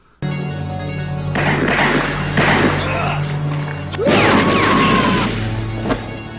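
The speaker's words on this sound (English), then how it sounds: "he just shot Tubbs in the fucking head" Loud gunshot-like bang amid a busy, noisy action scene, with a sharp crash near the end over continuous background sound.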